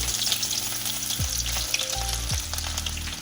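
Chopped garlic hits smoking-hot oil and fries with a loud, steady sizzle throughout, a dense crackling hiss close to the pan while a low hum and a few gliding tones sit underneath, no voices.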